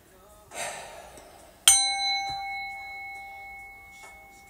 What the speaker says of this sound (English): I'm gonna ring the bell twice and then we're gonna get into the messages.